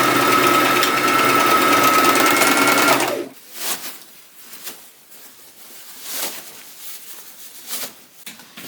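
A sewing machine runs fast and steady, stitching the elastic ends of a midi dress together for about three seconds, then stops, leaving quiet rustling of fabric handling.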